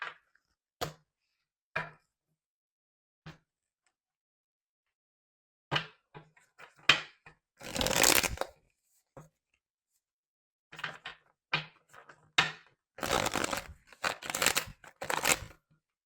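Tarot cards are shuffled by hand in a quiet room: scattered soft taps and slaps, then longer riffling and shuffling bursts in the second half, with no talking.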